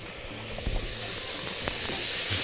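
Cubes of chicken breast sauté in a pan with mushrooms, giving a steady, loud hiss that holds throughout, broken by a few faint knocks and clinks of utensils.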